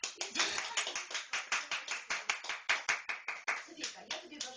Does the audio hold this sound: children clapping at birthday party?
yes